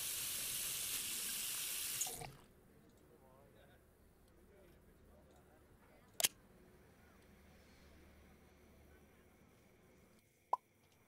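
Tap water runs steadily into a pan in the Cooking Simulator kitchen for about two seconds, then stops, leaving a quiet room with a couple of sharp clicks afterward.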